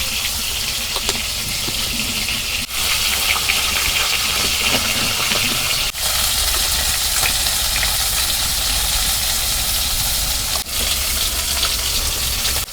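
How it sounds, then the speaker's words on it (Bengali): Rupchanda fish fries in hot oil in a wok, a loud continuous sizzle with brief dips where the spatula stirs and turns the pieces. "মাছ ভাজা হচ্ছে"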